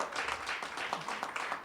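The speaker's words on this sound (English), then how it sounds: "How about a round of applause for Waleska Lugo de Jesus?" Audience applause at a lecture series event, a steady wash of clapping that holds at moderate, even loudness throughout, with a faint murmur of voices underneath.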